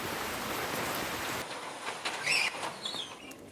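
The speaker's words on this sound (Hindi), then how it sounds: "उत्तरी कर्नाटक में जोरदार बारिश हो रही है" Heavy torrential rain in northern Karnataka pours as a dense, steady wash of noise, loud at first and then dropping to a softer patter.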